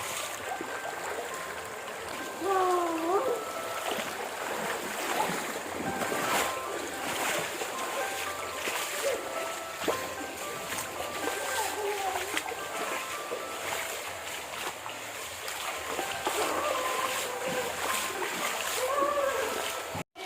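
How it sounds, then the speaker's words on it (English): Water splashes and trickles steadily out of rocks in an echoing cave, Robber's Cave in Dehradun, with a few people talking softly beneath the flow. "Water is coming out of the stones like this"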